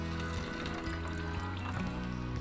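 A quarter cup of water being poured into a bowl for homemade playdough, a steady, close trickle lasting a couple of seconds.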